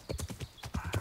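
Horse hooves clip-clop in a steady, repeated rhythm as a rider travels along a country road in the medieval video game Kingdom Come: Deliverance, close and fairly loud, with no talk over them.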